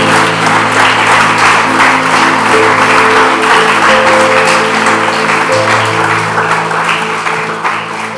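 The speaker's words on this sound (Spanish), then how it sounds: "Alguien debería darle un aplauso al Señor." A church congregation applauds loudly and steadily for several seconds, a dense wash of many hands clapping close by with faint tonal hum underneath, tapering slightly at the end.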